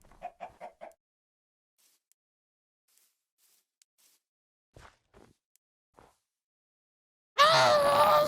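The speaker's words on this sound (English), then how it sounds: "Sorry, chicken." Minecraft chicken clucks in a quick run of several short bursts at the start, then quiet with scattered faint clicks before a loud noisy blast at the end.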